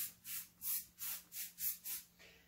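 An aerosol can of firm-hold hairspray hisses in seven quick, even bursts onto hair, each spray soft and airy over a low steady hum.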